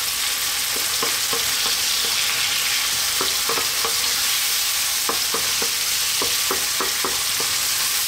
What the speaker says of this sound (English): we're going to drop in now that oregano and the chili powder and give that one mix